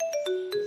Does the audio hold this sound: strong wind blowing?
no